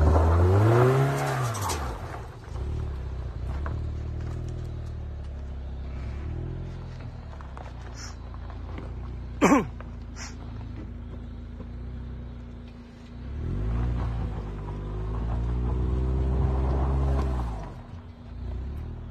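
A BMW 530Li pulls hard along a straight mountain road, its engine rising in pitch through gear changes at the start and again near the end, with a steady cabin drone between and a brief sharp squeak in the middle.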